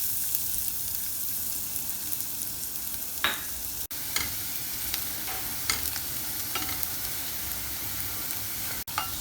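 Garlic sautéing in olive oil in a pan, a steady close sizzle punctuated by scattered spatula scrapes and taps, with two abrupt dropouts and no voices.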